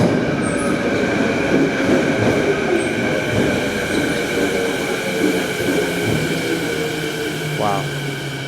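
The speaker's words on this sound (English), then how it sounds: "And here comes the train." A Canada Line SkyTrain pulls into a Vancouver station with a rolling electric rumble, a steady motor whine and a brief wheel squeal near the end, close and loud, while people talk faintly underneath.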